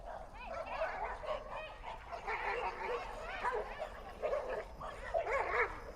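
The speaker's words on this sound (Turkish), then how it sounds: "burası köpek parkındayız bak hepsi birbirine girdiler" Several dogs at a dog park bark, yip and whimper as they tumble and play together, a dense, continuous scramble of close, overlapping calls with faint talk underneath.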